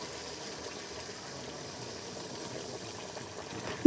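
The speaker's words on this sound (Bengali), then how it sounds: "কষানো হয়ে গেছে, এখন ঝোল দিয়ে দেব।" Broth pours into a pan of kosha murgir mangsho chicken curry as it cooks, giving a soft, steady liquid rush and sizzle at moderate level with no voices.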